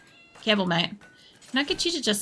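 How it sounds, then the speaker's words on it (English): A cat meows with clear tonal calls, heard up close under a man's speech in a workshop setting, with talk filling most of the short stretch. "I'm going to have cats skittling around over it"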